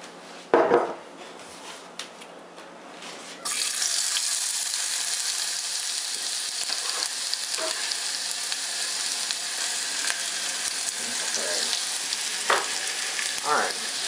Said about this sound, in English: we're going to go ahead and get that sauteing in our saucepan. I'm going to throw a little bit of olive oil in there.